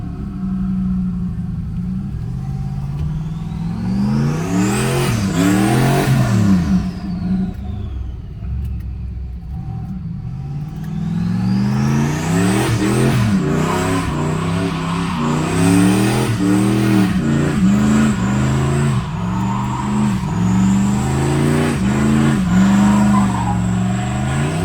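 A Ford Fairmont with a big block engine is driven hard, roaring loudly as it revs up and down through repeated rising and falling sweeps, close and continuous with no talk.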